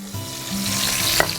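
Carrots tumble into a pot of red wine sauce reduced by half for a Sunday sauce with sausage, meatballs and pork chops, giving a steady close sizzle and frying crackle with a brief sharp clatter near the end.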